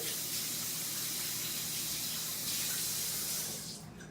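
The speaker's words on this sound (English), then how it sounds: "I'm gonna wash my hands just for a second." Tap water runs steadily while hands are washed at a kitchen sink, a continuous close hiss lasting about four seconds before tapering off at the end.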